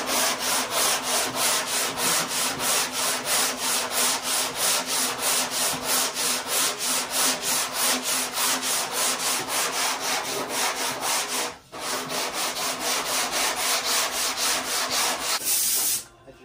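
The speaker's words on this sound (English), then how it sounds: "after you sand over everything, you want to make sure to blow the dust off of it" Steady back-and-forth sanding of Bondo body filler on car bodywork, a rapid rhythmic scraping that continues close and loud for the whole stretch, pausing briefly once.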